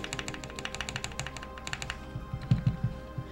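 Keys on a custom-built mechanical keyboard clack in quick, light, steady taps close up, ending with a few heavier, deeper presses.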